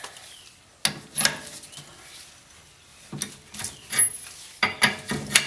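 Ball joint being pressed into a Dana 30/44 axle with a press tool: several sharp metallic creaks and clicks in short bursts, with quiet pauses between them, close by.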